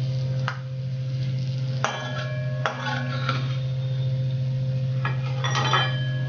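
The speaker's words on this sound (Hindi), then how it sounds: "हल्का रोस्ट करके हम अपने ड्राई फ्रूट्स को निकाल लेंगे।" Dry fruits are roasted in a pan for makhana kheer: a utensil scrapes and clinks against the metal a few times over a steady low hum and a faint sizzle.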